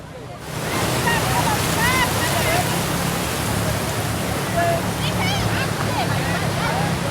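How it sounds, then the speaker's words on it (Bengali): Ocean waves wash onto a beach at Cox's Bazar, a constant broad surf roar, loud and close, with faint higher chirps drifting over it. "আমরা বিচের দিয়ে হেঁটে যাচ্ছি"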